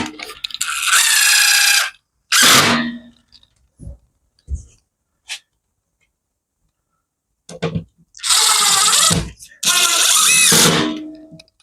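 A power drill driving screws into the frame of a homemade grow tent, with several loud whirring bursts separated by silences and a few small clicks and knocks between them.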